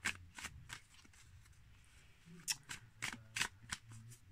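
Tarot cards shuffled for a reading, with soft brushing riffles and several sharper card snaps and slaps, close and fairly quiet over a low background hum.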